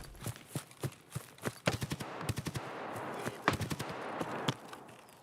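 Escape from Tarkov in-game gunfire from an RPK or SKS, heard as a string of sharp separate shots, single cracks at first and then quick bursts of two to four, moderately close over a constant outdoor hiss.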